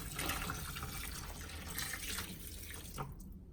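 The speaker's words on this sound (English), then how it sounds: "So after cleaning this, I'm going to pour some hot water" Hot water pours in a steady splashing stream over a cleaned, gutted whole organic chicken in a kitchen, close and continuous before tapering off at the end.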